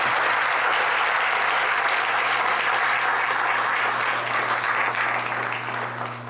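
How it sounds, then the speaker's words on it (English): A large audience at a Republican political event in Utah applauds loudly and continuously, a dense wash of clapping with a steady low hum beneath it that fades slightly at the end. "Can we give them a round of applause too before we start?"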